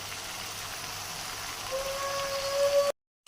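Vegetables for pulao fry in a pan, giving a steady, rain-like sizzle that swells slightly before cutting off abruptly near the end.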